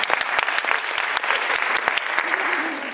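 Audience applause at a high school staging of Alice's Adventures in Wonderland, with many hands clapping in a dense, sustained burst and sharp individual claps standing out. A faint voice comes in near the end.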